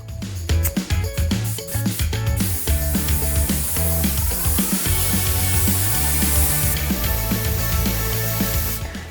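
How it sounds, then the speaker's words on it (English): Steady airbrush hiss sprays black base coat onto a bike frame continuously for several seconds alongside music, with faint tool rubbing and clicks close by. "I loaded some black base coat and that's what I'm spraying onto the frame."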